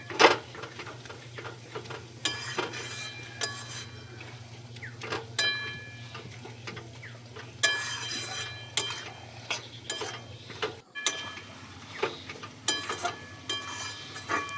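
A spoon scraping and clinking around a pan as a cooking mixture is stirred, irregular close taps and scrapes over a steady low hum, with no talking.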